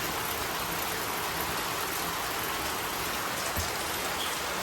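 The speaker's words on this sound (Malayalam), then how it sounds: "എന്തൊരു മഴ അല്ലേ? ഇങ്ങനെ പെയ്തുകൊണ്ടിരിക്കല്ലേ." Heavy rain pours down steadily in a dense, unbroken hiss, with no voices and a faint low rumble beneath.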